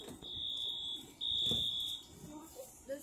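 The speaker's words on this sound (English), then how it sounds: "Do you hear the alarm?" A school fire alarm rings indoors as a steady, piercing electronic tone sounding in two long bursts with a short gap between them, with faint voices and rustling underneath.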